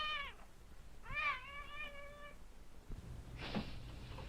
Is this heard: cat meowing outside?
yes